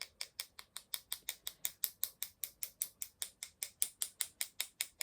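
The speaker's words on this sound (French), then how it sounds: "Je vais taper avec ma brosse." A brush taps a pigment-covered page for a letter U Christmas art page in a quick, steady rhythm of crisp, close, evenly spaced strikes, around five per second, with no voices.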